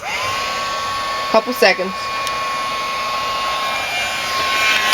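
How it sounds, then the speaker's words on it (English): A heat tool blowing hot air steadily to shrink plastic wrap on a hand scrub gift basket, a constant even whoosh with a faint whine throughout, briefly interrupted by a few short spoken words. "you just want to grab your heat tool and heat it up"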